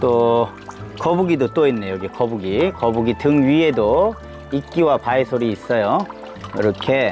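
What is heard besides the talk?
water trickling from the mountain into a stone basin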